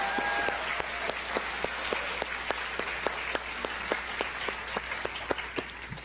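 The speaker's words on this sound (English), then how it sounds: "if everyone could give a huge round of applause for both groups" Steady audience applause fills a member awards ceremony, dense and continuous with many hands clapping at once, sharper individual claps popping out regularly over the broad wash.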